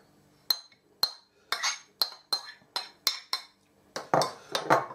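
A metal spoon clinks repeatedly against a dish while prawn cocktail sauce is spooned over prawns, about a dozen sharp, close taps in an uneven rhythm, with no talking.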